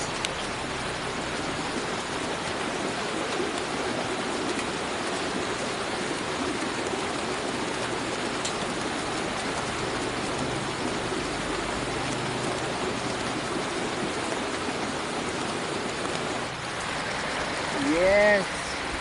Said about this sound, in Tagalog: Ito ang tunay na waterfall.